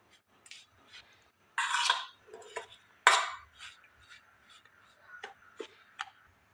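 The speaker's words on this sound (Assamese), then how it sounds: "এইখিনি মই ভালদৰে এইদৰে মিলাই লৈছোঁ" A spoon mixing dry spices with asafoetida in a bowl, giving a few scattered scraping clinks and taps, close and quiet, with short bursts of rustling between pauses.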